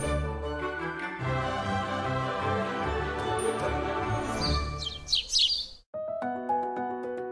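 Birds chirp and tweet brightly and continuously over layered background tones, the calls growing busier near the end before a short pause.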